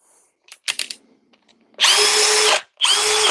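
A Flex compact power drill spins up in two loud, steady whirring bursts, the first longer than the second, after a few short clicks and handling knocks. No one speaks.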